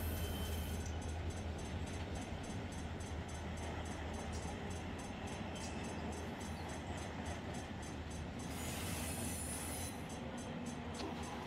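A freight train hauling tank cars rolls along in Run8 Train Simulator with a steady, loud rumble and regular wheel clicks, plus a high squeal that rises briefly near the end.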